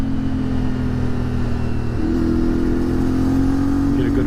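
A CF Moto Ibex 450 motorcycle engine while riding, a loud steady mid-pitched engine drone with a shift in pitch partway through, wind noise throughout, close to the microphone.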